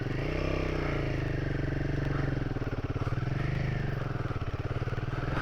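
A Royal Enfield Himalayan 450 ridden slowly off-road on slippery singletrack and ATV trails, its single-cylinder engine thumping steadily up close with low, pulsing chugging and mild rises and falls in throttle, alongside some clattering.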